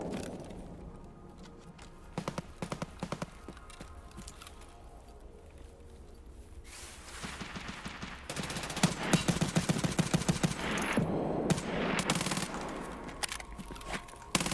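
A 9mm Vector submachine gun in the shooter game Escape from Tarkov fires in short bursts, then in long rapid sprays that grow louder and denser, with brief pauses between strings of shots.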